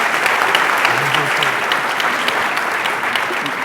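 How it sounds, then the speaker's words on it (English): Dense, continuous clapping from an audience fills the space, loud and sustained, with faint voices mixed underneath. "Please give him a round of applause for that."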